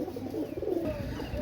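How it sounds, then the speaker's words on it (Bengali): Red Pakistani pigeons coo in soft, low, throaty phrases, close and repeated over a faint background, with no talking. "পাকিস্তানি লাল পায়রি কবুতর, একদম 1300 টাকা হলে নিতে পারবেন।"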